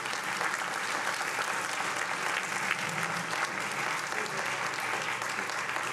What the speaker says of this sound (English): Let's have another big round of applause for our judges.